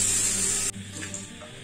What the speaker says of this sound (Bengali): এবার আমি লাউগুলোকেও এর সঙ্গে মিশিয়ে 1 মিনিট এইভাবে নাড়াচাড়া করে নেব।